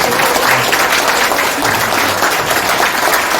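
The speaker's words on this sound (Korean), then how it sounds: "여러분 마이클 신 박사님을 위해서 뜨거운 박수 부탁드립니다" Warm, loud applause from a forum audience welcoming Dr. Michael Shin, a thick continuous wash of clapping that holds steady from start to finish with no talk over it.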